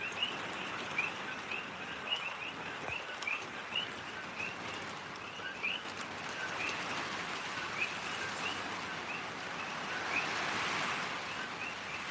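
Heavy rain pours steadily in Mountain View, Hawaii, a dense continuous hiss of downpour on surfaces with wind, holding at an even, fairly loud level throughout with no voices.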